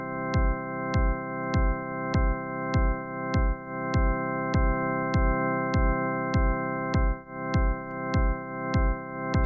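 An OP-Z synthesizer holds a sustained chord that swells and ducks in a steady pulsing rhythm under a triangle-shaped sidechain effect, each beat marked by a punchy kick thump, loud and close with no talking.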